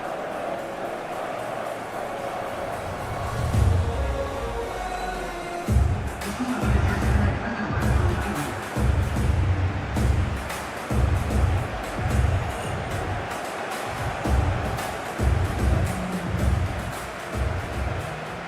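A stadium crowd roars in a PES 2021 football video game during a simulated Colombia vs Portugal World Cup match on a clear evening. A broad, steady roar rises and falls in repeated surges, with rhythmic chanting swells throughout.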